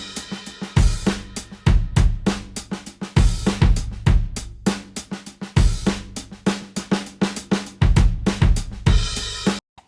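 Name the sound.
drum break loop playing in Ableton Live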